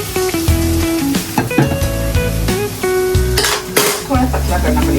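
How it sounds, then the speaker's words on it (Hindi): A white sauce is stirred in a pan as hot milk is mixed in, with metal utensil scraping and clinking against the pan over a loud sizzle, punctuated by sharp knocks, with a musical backing underneath. "तो मैं इसमें मिल्क मिक्स कर रही हूँ एंड इसको चला रही हूँ साइड बाई साइड।"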